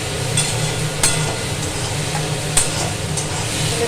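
Puin stalks for a chorchori fry in a pan, a steady close sizzle broken by a few sharp clicks of a spatula scraping and stirring.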